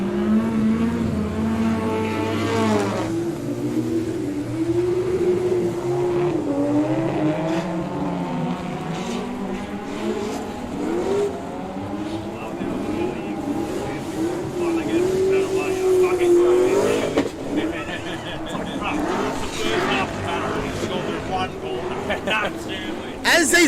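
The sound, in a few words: drift cars driving past at Superdrift event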